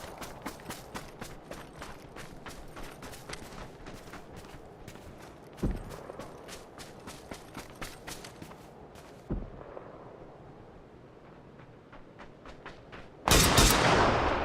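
In the video game PUBG, rapid gunfire cracks in a long run of sharp shots, with a few heavier bangs and a loud burst of noise at the end, heard alone.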